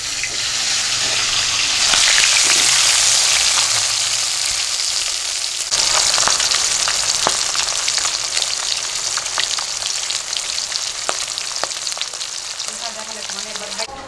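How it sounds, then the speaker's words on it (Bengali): Magur fish sizzle in hot oil in a pan, a loud steady frying crackle that swells early, then carries on with scattered pops, clinks and stirring sounds as the pieces are handled, with no voices. "তো মাছগুলো এবার উল্টে দেবো, এক পাশ ভাজা হয়ে গেছে।"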